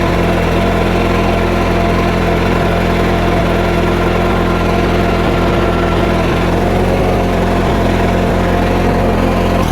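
Allis Chalmers tractor engine running steadily at a low, even idle-like chug throughout a drive around a tractor show, loud and continuous with no talk over it.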